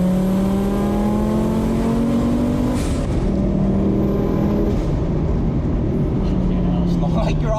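A 510 bhp Audi 80 cabriolet engine pulls hard and loud, its note climbing in repeated rising sweeps as it accelerates, running continuously close by for several seconds.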